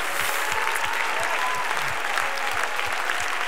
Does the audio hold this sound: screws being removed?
no